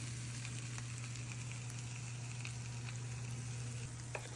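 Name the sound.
ribeye steak sizzling in a skillet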